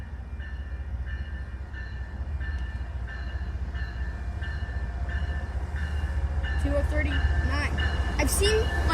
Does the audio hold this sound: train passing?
yes